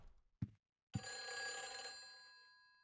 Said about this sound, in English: Oh, my phone is ringing.